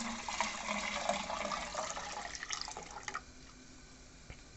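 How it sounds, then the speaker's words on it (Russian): Three litres of birch sap poured into a saucepan, a steady splashing, trickling liquid stream for about three seconds that then tapers off into scattered drips. "кастрюльку наливаем 3 литра березового сока."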